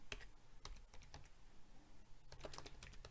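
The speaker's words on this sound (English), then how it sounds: "I really apologize for my typing." Typing on a computer keyboard comes through as bursts of quick, irregular clicks with a pause in the middle, quite faint and close, with no talking.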